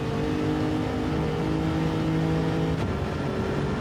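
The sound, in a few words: race car upshifting to sixth gear, racing video game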